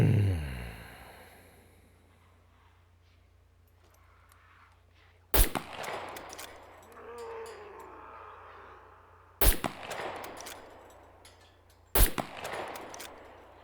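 .22 rifle shots ring out in the SCUM survival game, three sharp cracks spaced a few seconds apart, each trailing off into a short echo over a quiet background.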